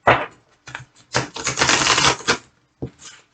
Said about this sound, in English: So we'll do one more shuffle